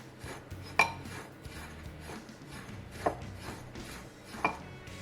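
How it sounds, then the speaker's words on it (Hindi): Chaat ingredients are mixed in a bowl with a utensil, giving soft rubbing stirs and a few sharp clinks of metal against the bowl, quiet and close. "सभी को अच्छे से मिक्स करेंगे।"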